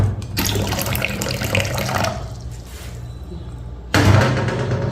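Cold water runs from a kitchen tap for bread dough, a loud splashing gush that eases off briefly and then surges back at full force near the end.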